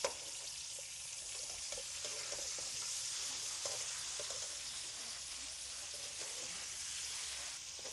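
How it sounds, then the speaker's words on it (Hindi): Chicken pieces frying in a pan for hot and sour soup, giving a steady broadband sizzle throughout with faint scraping stirs, close and continuous, no talking. "चिकन डाल देंगे। इसको फ्राई करेंगे।"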